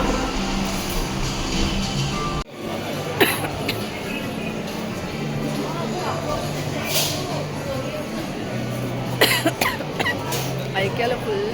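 A few sharp coughs break out over a busy background of crowd chatter and outdoor bustle at Madina market in Begum Bazar, Hyderabad.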